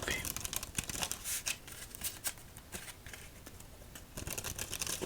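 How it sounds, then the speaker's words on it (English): Playing cards are riffled and shuffled close by, with crisp fluttering bursts and light papery slaps, fairly quiet with no voices. "as we shuffle up these cards"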